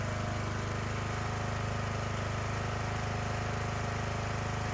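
A small engine, freshly repaired with new valve seats, runs fast at high speed, giving a steady, loud, close-up drone that holds without a break.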